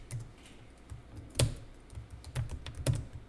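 Someone types on a misbehaving computer keyboard nearby during an accounting class, with irregular clicks and a few heavier key strikes spaced out over a few seconds in a quiet room.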